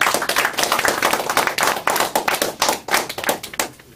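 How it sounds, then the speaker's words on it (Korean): Audience clapping at a lecture event in a hall, a dense run of many hands applauding steadily for about four seconds with irregular sharp claps, no voices over it. "박수 소리도 이제 좀 적어진 것 같은데"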